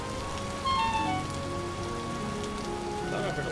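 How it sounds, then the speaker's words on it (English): Rain falls in the video game Vintage Story, a steady patter of drops on surfaces that continues evenly throughout, with faint tonal game sounds beneath and no speech. "No, it's just the rain."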